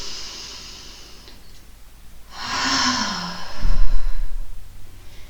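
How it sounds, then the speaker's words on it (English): A deep breath released through the mouth during a calm guided breathing exercise, a long soft whooshing exhale close to the listener, following a quieter inhale. "Exhale, release through the mouth."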